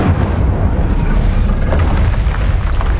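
A fire spell cast in the Hogwarts Legacy wizarding game, a sustained loud whooshing roar of flame with deep rumbling, steady and dense throughout without a break.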